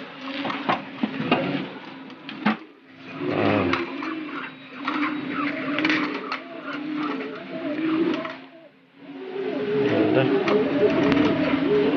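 Pigeons cooing in soft, repeated rolling calls close by in a pigeon loft, with a person talking intermittently over them and a low hum underneath.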